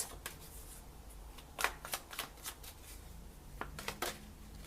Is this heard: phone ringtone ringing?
no